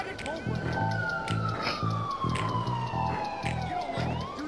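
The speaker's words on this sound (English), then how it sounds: "I hear sirens, but I don't see anything on it." Police sirens wail in the video game Bully, a long gliding tone sweeping down over a steady rhythmic background music beat, loud and continuous throughout.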